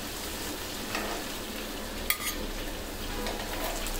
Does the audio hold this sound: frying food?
yes